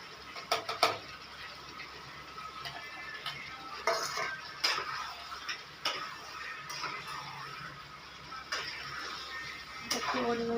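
Fried potatoes go into a pot of meat curry, with clinks of a utensil against the pot, light ticking and stirring scrapes, and a few louder knocks spaced through a quiet kitchen background.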